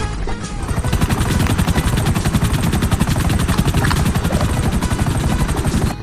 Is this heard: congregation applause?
no